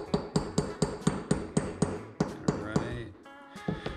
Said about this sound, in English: driving the bushing in there nice and straight